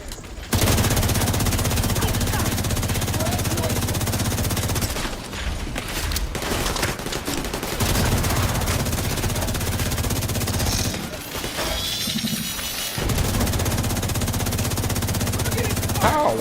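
Video game gunfire: sustained rapid automatic fire in long loud bursts, broken by short pauses and a few heavier thuds, with a voice talking faintly beneath.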